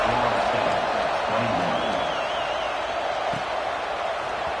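A stadium crowd in the College Football 26 video game keeps up a steady, loud roar before a kickoff, with a faint whistle-like tone rising over it and a game commentator's voice briefly audible underneath.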